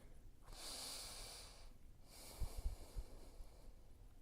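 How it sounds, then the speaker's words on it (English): Slow, deep breaths during a seated chair yoga session, two long airy inhale-exhale cycles close to the microphone, with soft low thumps of movement near the end and no talking. "continuing with your nice deep breathing here."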